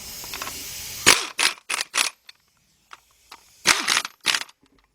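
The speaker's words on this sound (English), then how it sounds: "the gun spins it so fast that it'll tighten up" An impact gun spins a nut onto a bolt during a partial engine rebuild on a 2003 Jeep Liberty Sport 3.7, sounding as loud, close, sharp whirring bursts in two clusters with brief silent gaps between.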